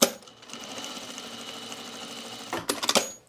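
A sewing machine stitches fabric while a bias-cut dress is being sewn, giving a steady, fairly quiet whir that ends in a few louder clattering knocks as the stitching stops.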